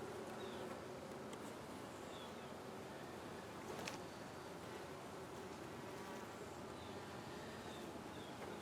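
Honeybees buzz around a hive frame in a dense, steady hum, close by and quiet, with a few brief knocks and rustles mixed in.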